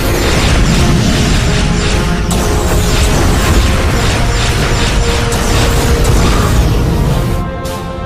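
Sci-fi starship battle with weapons fire and explosions: dense, continuous loud booming and crashing mechanical blasts layered over a heavy rumble, sustained throughout with no letup until fading slightly at the end.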